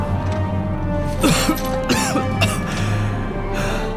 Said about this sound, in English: You should be coughing up blood.